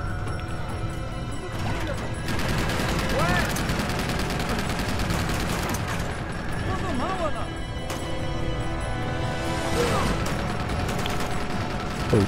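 Rapid automatic gunfire from a mounted turret in the action game Uncharted 2, loud sustained bursts of fusillade with clanking impacts running throughout, while a player talks over it.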